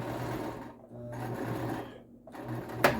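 A sewing machine stitching a fabric face cover and neck shield, running in two steady whirring stretches separated by short pauses, fairly quiet and close, ending with a small click.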